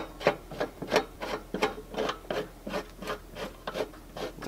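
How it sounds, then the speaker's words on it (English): Repeated rasping ratchet-like strokes as a strap is tightened on a cattle injection simulation model, about a dozen evenly spaced pulls, close and moderately loud with no talking. "Then we're going to tighten that until it snugs up against the upright of the base."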